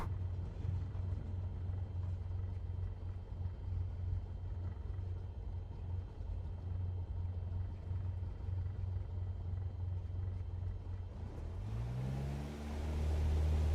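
Steady low engine drone of a Cessna 172 Skyhawk single-engine propeller plane at full takeoff power in a flight simulator, a continuous loud rumble that swells and rises in pitch near the end as the aircraft accelerates; no talk.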